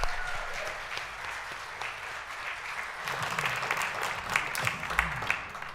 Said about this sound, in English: Hey, let's give him another round of applause,